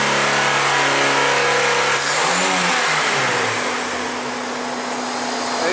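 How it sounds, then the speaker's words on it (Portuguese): A Porsche Cayenne V8 engine idles and revs, rising to a loud steady drone with a brief swell of revving in the middle before settling back to a smooth idle, close by and with no talk over it. "É um Cayenne, motor V8."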